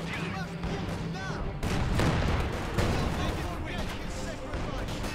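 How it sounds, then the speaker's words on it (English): Light artillery and gunfire in Company of Heroes 2 form a dense, loud battle din of overlapping blasts and shots, growing heavier partway through and continuing steadily to the end. "Launch a light artillery."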